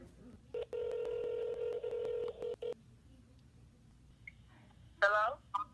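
A telephone dials with a long run of steady touch-tone beeps, then a pause and a short burst of clicks and tones, heard alone and fairly clear.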